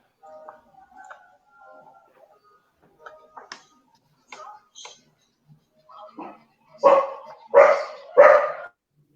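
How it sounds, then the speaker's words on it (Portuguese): A dog barks three times in quick succession, loud and close, after a stretch of softer knocks and faint sounds with no talking. "Os latidos do cachorro."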